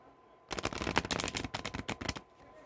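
Hoyle and Maverick playing cards being shuffled: a rapid run of crisp riffling flutters and slaps lasting under two seconds, close and fairly loud, with quiet before and after.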